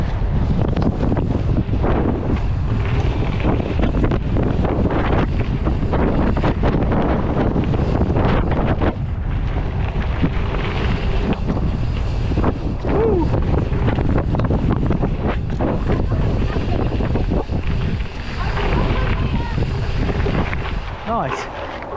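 Roaring wind buffets the microphone nonstop as a mountain biker rides into a headwind off a huge drop-off, a loud dense rush that swallows everything, with a voice faintly underneath.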